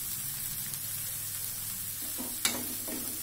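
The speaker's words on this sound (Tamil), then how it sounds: "தேங்காய் பூ சேர்த்து கலந்து விட்டுடலாம்" Grated coconut stirred into green peas sundal in a pan gives a soft, continuous sizzle and scraping, with a single sharper clack from the spoon partway through; no talking.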